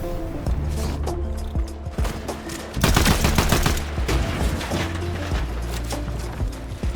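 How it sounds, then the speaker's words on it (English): Distant gunfire in a shooter video game: scattered shots and rapid bursts cracking over a steady game soundscape, loudest in a dense volley near the middle. "I heard some guys shooting in the distance"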